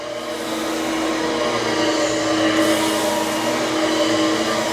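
A Shark Freestyle Max SV2002 cordless vacuum runs on carpet with a steady, loud motor whine and airflow hum, close up, continuous and unbroken, with no talking.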